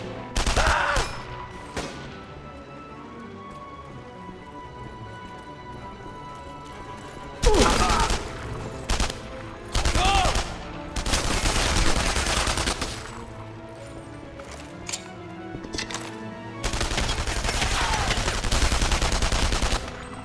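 Gunfire from the World War II shooter game Enemy Front comes in loud bursts of automatic fire and single shots, separated by quieter gaps of game ambience.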